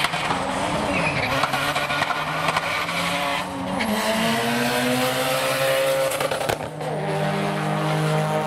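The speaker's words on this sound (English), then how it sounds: "He is doing a burnout at the line." A modified, turbocharged Mazda RX7 drag car doing a burnout at the start line: a loud, sustained engine roar with rising and falling revs over continuous tire squeal and skidding, heard close and without speech.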